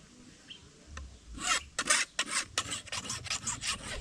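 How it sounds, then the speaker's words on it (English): A tool being sharpened with a hand file outdoors in a yard: a quick run of close, rasping strokes after a quiet start, each stroke a short, bright scrape, with no talking. "then you'll see me sharpening"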